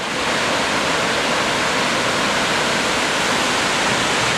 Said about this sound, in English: A little bit of water coming out of that way.